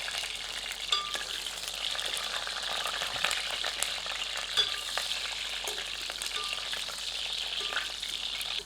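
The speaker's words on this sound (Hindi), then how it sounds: "गर्म तेल में आलूओं को डालकर भूनकर करारा कर लेते हैं।" Potatoes crackle and fry steadily in hot oil at medium heat, a continuous bright sizzle with occasional stirring clicks and small pops, fairly close and alone.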